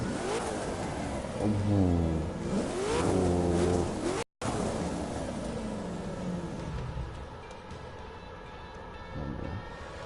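Shelby touring car in The Crew 2 revving and accelerating, its engine rising and falling in pitch over a steady driving rumble, loud and close, with a brief dropout midway.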